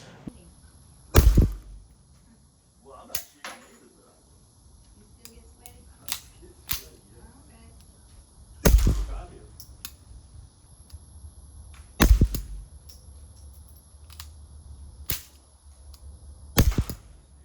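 A suppressed Beretta 21A Bobcat pistol with a short barrel and small mass fires a string of sharp, cracking shots spaced irregularly over several seconds, crisp and close against a quiet background.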